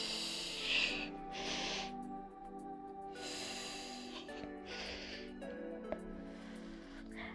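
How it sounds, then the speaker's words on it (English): Deep breaths in and out during a Pilates exercise, several long airy inhales and exhales in a slow rhythm, close and quiet with no talking. "Take a deep breath in."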